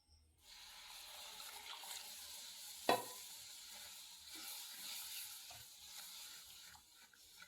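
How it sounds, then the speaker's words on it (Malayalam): Water poured into roasted gram flour in a hot pan sets off a steady, close sizzle and bubbling hiss that runs throughout, with one sharp splash or knock near the middle and gentle stirring beneath. "ഇനി ഇതിനകത്ത് വെള്ളം ഒഴിച്ചു കൊടുക്കാം"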